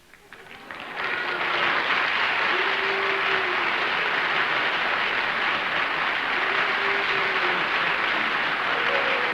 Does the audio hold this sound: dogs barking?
no